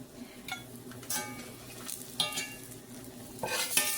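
Hoecakes sizzling in a pan while being flipped, a quiet steady fry under scattered scraping and clinking bursts from a spatula against the pan.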